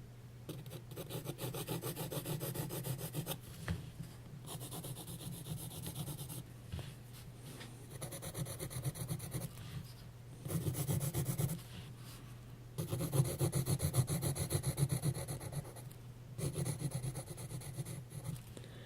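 An HB pencil shades on rough-textured drawing paper, a close, continuous scratchy rasp in bursts of back-and-forth strokes with brief pauses, over a low steady hum.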